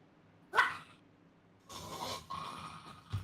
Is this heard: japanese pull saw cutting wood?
no